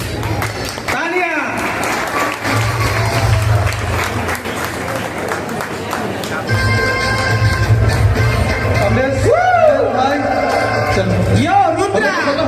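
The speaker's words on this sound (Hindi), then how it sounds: "तालियां" Sustained audience clapping at a poster launch for a Chhattisgarhi film meetup in Raipur, loud and dense throughout, with voices and shouting mixed in over it.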